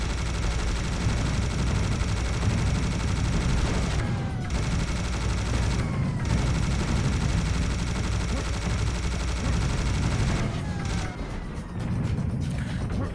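Minigun gunfire in Serious Sam: The First Encounter, a continuous, loud, rapid-fire roar running throughout, with a few brief dips as firing pauses.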